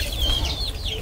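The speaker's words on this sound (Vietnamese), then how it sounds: "Con gà kìa." Chicken clucking close by at a Vietnamese home meal of duck porridge, a few short fowl calls in a steady outdoor murmur.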